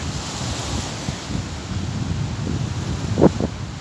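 Sea waves wash in with wind at Crosby Beach as the tide comes in, a continuous rushing surf and gusty wind buffeting the microphone, with a brief rustle near the end and no talking.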